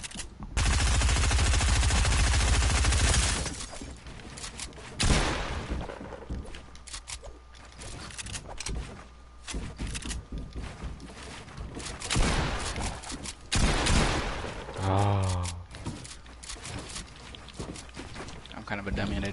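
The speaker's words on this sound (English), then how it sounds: "you're so good spraying with your AR" Assault rifle sprayed in a video game scrim: a loud, dense burst of rapid automatic fire opens the clip, followed by scattered shots and in-game action under ongoing talk.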